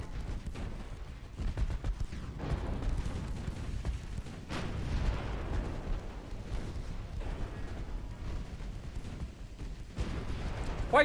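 Naval guns in a USA long campaign naval war game thunder in continuous rumbling salvos against a charging enemy fleet, deep booms layered into a dense, steady barrage without a break.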